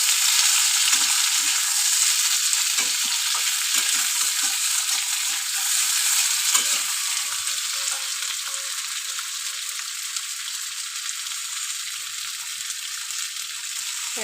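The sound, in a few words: frying in a pan for tilapia fish curry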